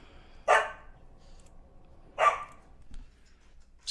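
Two sharp dog barks ring out about a second and a half apart, moderately close, against a quiet indoor background with no talking.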